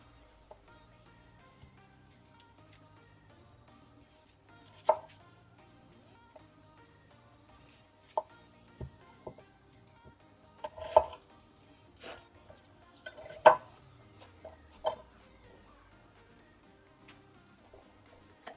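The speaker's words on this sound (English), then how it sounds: "I have an onion that I'm going to just slice." A small onion sliced with a knife on a cutting board in a home kitchen, sharp scattered chops and taps at an irregular pace, fairly quiet and close, with faint background noise between cuts.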